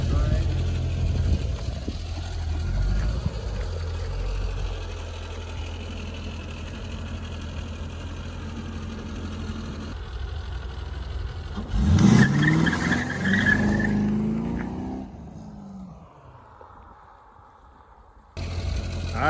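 A rebuilt Corvette C5 engine drones steadily, then revs hard and accelerates in a loud surge before the sound drops away, with people talking throughout.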